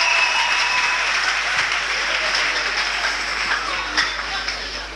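A church congregation applauding, a dense, steady roar of clapping that fills the space loudly and evenly throughout.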